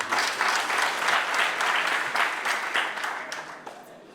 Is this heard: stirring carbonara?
no